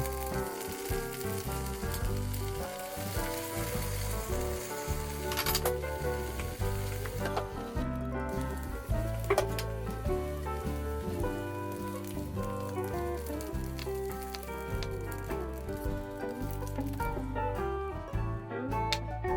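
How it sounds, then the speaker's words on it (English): Tofu fries in hot oil in a pan, giving a steady, crackling sizzle that continues for the whole stretch while tonal, music-like sounds play alongside it. "Heat pan with oil. Fry the tofu."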